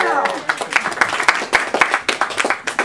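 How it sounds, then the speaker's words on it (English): A small book club audience at a comics shop in New York applauds a guest editor, a brief burst of dense, close clapping with voices cheering over it. "Give him a round of applause."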